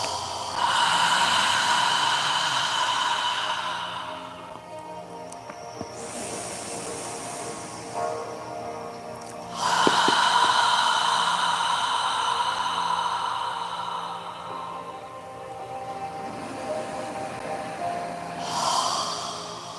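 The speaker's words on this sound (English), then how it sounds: "As you're exhaling, imagine you're fogging a mirror with your breath." Slow yoga breathing with long, airy exhalations pushed through the back of the throat as if fogging a mirror, several breath cycles close and soft with pauses between.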